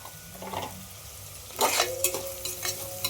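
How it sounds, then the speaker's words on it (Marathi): Onion sautéing with ginger-coriander paste for masala rice sizzles softly, then the spatula's stirring turns louder and busier halfway through, with scrapes against the pan up close. "कांदा छान असं परतून घ्यायचं आहे त्यानंतर इथं घेतलेले आहे अद्रक कोथिंबीरचं वाटण पण टाकायचं आपल्याला थोडंसं त्यात"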